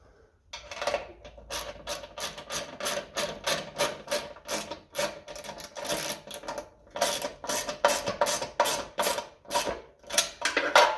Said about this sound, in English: Right, so hold it with the spanner.